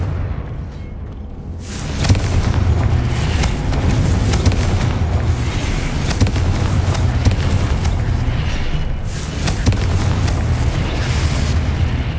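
Confringo explosive spell blasts in the video game Hogwarts Legacy: a loud, sustained roar of booming detonations with crackling bursts, continuing densely for several seconds after a quieter opening.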